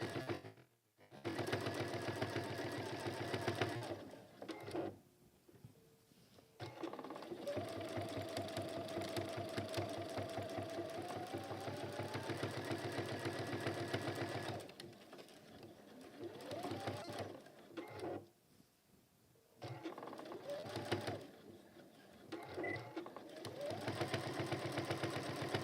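A sewing machine top stitches around a velvet folded pouch, its steady mechanical whirr running in long stretches broken by short pauses, with a voice speaking over parts of it.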